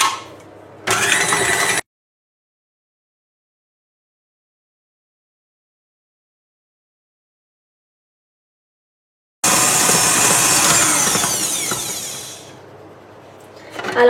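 An electric mixer beating eggs with sugar and vanilla sugar gives a loud, steady motor whir in two bursts, a short one near the start and a longer one that fades lower toward the end, with silence between.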